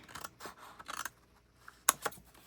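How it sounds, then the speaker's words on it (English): Scissors cut a square of paper off an accordion pocket in a few quick, crisp snips, spaced irregularly, close and quiet, with no talk over them. "Now the first thing I want you to do is cut off this square right here."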